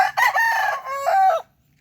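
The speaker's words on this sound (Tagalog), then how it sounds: "stag lang to, pero malaking manok" A single loud crow close by from a large young stag rooster, a drawn-out cock-a-doodle-doo lasting about a second and a half, then silence.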